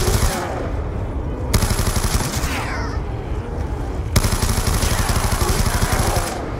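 Rapid automatic gunshots in Call of Duty Black Ops 2 Zombies on the Nuketown map, loud sustained bursts of fire close by with brief pauses and sharp individual cracks.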